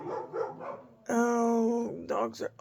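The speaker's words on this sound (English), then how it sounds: "Oh, they're riding scooters and the dogs are going nuts." Dogs are barking and whimpering at people riding scooters past on a street. Someone talks over the excited yelps, and a sustained tonal horn-like sound cuts in near the middle.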